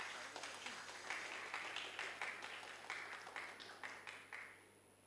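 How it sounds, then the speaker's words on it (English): Faint, distant applause from an audience at a TEDx college event during a felicitation ceremony, a soft rippling of many hands over a low electrical hum that tapers off near the end. "Please give her a huge round of applause."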